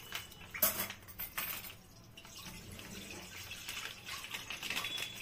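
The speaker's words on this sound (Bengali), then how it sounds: "কড়াইতে দুধটা ঢালছি" Half a litre of milk poured into a wok for making mango ice cream, a soft, faint trickling splash with light clinks of metal cookware, close and quiet.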